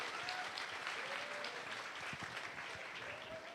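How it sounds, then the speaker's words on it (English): Audience applause after an amazing performance at an evening program of Shri Guru Puja, a steady, fairly faint wash of clapping from a crowd, continuous throughout. "So a huge round of applause again for that amazing performance."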